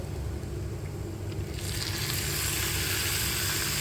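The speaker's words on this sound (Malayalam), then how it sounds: "ഇനി നമുക്കിതിലോട്ട് എടുത്തു വെച്ച കൂന്തൽ ഇട്ട് കൊടുത്താലോ" Squid frying in a pan with tomatoes gives a steady close sizzle, which swells into a louder, brighter crackle after the squid goes in.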